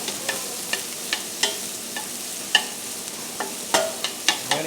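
Garlic and onions cook in a pan alongside sausage, a soft low sizzle punctuated by a series of sharp clicks and scrapes of a utensil stirring against the pan at irregular intervals.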